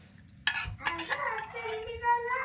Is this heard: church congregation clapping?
no